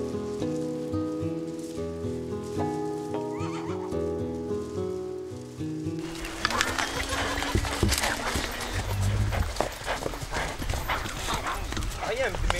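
A herd of horses, including a black stallion and a mare, walks across rough ground on a Marquesas island. Music plays first, then clustered hoof clops ring out outdoors, close and fairly loud, over windy background noise.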